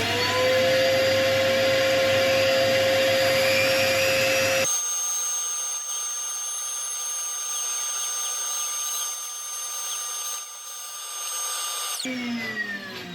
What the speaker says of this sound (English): So I'm just going to get my Dremel tool out and cut this off.